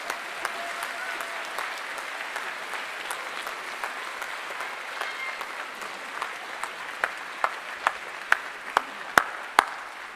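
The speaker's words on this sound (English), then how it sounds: "just give them a round of applause" Graduation ceremony audience applauding the graduates' parents and families, a soft, steady crowd clapping in a large hall, with a few sharper claps rising toward the end.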